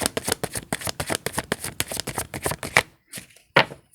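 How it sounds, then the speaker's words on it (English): Tarot cards riffled and shuffled in quick rhythmic bursts, loud and close, followed by a pause and a couple of soft card slaps. "One more shuffle, and if nothing falls,"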